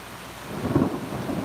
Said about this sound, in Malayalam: നല്ല ഇടിയും നല്ല മഴയും